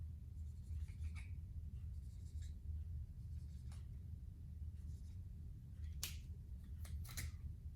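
Marker strokes drawing chromosomes by hand during a biology lecture, soft scratchy squeaks over a steady low room hum, with a few sharper strokes near the end.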